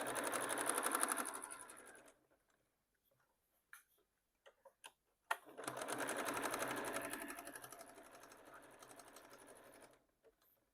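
An overlocker (serger) runs in two quick bursts of fast mechanical stitching, separated by a pause with a few light clicks, and quiet between them.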